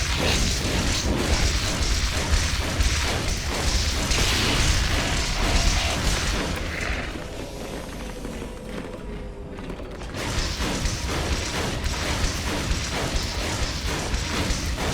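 In Natural Selection 2, a resource extractor comes under sustained attack, with dense crashing, booming and mechanical impact noise running throughout and a brief thinner lull midway before the loud battering resumes.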